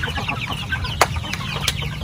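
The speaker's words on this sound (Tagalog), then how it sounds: "mga manok po natin na native" Native chickens and young chicks cluck softly and continuously, with a couple of sharper, louder calls standing out close by against a low background rumble.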